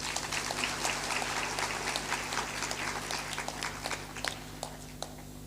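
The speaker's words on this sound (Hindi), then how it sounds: "ताली बजा दीजिए।" Crowd clapping at a Hindu devotional gathering, a fairly faint, continuous patter of many hands with individual claps standing out, over a steady low hum from the hall's sound system.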